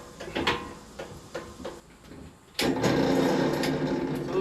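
A few short clicks and taps, then a power drill whirs steadily at close range, boring 1/8-inch pilot holes into material for a mobile mini anvil in a small shed.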